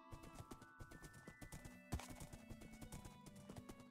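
Horse hooves clip-clop in a rapid, steady rhythm in the Minecraft game WynnCraft, quiet and continuous, with a whinny partway through and no talk.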